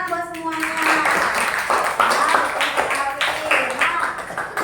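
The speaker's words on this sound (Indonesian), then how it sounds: "Kasih tepuk tangan buat semuanya." A class of young pupils claps for one another in an Indonesian classroom, a loose, uneven patter of hands under a teacher's speaking voice and children's chatter, fairly close and moderately loud.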